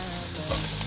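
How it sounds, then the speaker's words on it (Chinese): Zucchini, carrot and black wood ear mushroom sizzle in a hot wok while being stir-fried, a loud, continuous close frying hiss with brief stirring scrapes. "快速翻炒，食材炒均匀"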